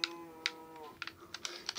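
Cows in the video game Minecraft give a few short, sharp moo-like calls over a faint droning background, closely spaced and fairly loud, with no speech.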